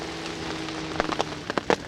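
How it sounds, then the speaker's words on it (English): Light rain falls in soft, scattered patter, the first serious rain in weeks, with a few sharper drops striking close by over a faint steady hum. "the first serious rain we've had for weeks"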